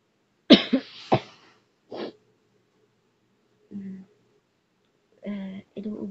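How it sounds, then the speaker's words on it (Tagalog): A person coughs several times in quick, close, sharp bursts, then gives a couple of softer coughs, with short spoken sounds in between and near silence around them. "Inuubo ako."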